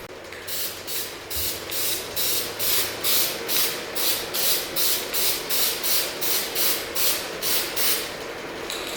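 Aerosol spray paint applied to a brake caliper in a garage during a Nissan 370Z drift build, heard as a steady, close hiss broken into a regular series of rhythmic pulses by repeated short sweeps, with no talk.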